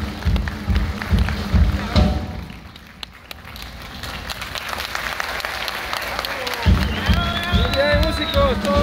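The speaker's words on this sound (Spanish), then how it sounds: "aplauso" An audience applauds a Ballet Nacional de El Salvador dance performance in Sonsonate. Loud clapping dips briefly and then surges back amid crowd murmur, with some high whistling tones near the end.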